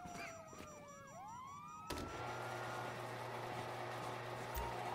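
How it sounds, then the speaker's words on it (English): Wailing police sirens in Grand Theft Auto V sweep up and down in the distance, then a sharp hit and a steady electronic wail, with a rumbling engine underneath. "you hear that? Sirens!"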